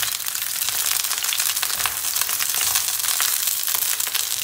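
Eggplant frying dry, with no oil, in a covered pan gives a steady close sizzle and crackle that holds even and unbroken throughout, with no voices.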